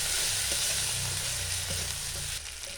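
Spice paste of turmeric, chilli powder and green chilli paste frying in a pan for a Bengali singi fish curry, a steady close sizzle with soft stirring scrapes, no voices.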